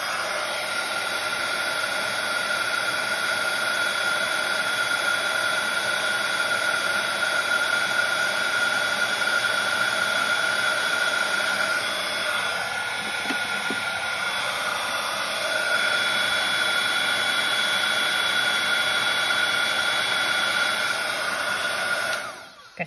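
A craft heat dryer blows steadily over a triple-embossed inchie craft piece, a loud continuous hissing roar lasting over twenty seconds with a brief dip midway before it cuts off, close up and with no speech.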